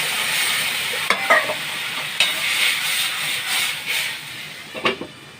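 Spiced mixture with turmeric and a splash of water sizzles and hisses in a pan, with a few sharp spatula scrapes and stirring clicks over the steady frying noise, close up and without talk.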